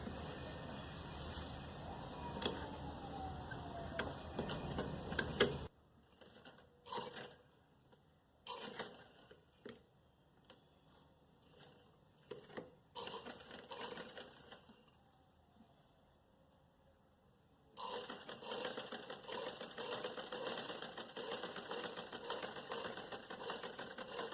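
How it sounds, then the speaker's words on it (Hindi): A sewing machine stitches a strip onto trousers: a steady whirring run at the start, then a series of short, stop-start bursts with quiet gaps, before settling into another sustained run. "अब हमें जो है यहाँ पे बीच में सिलाई करके इस पट्टी को फिक्स करना है।"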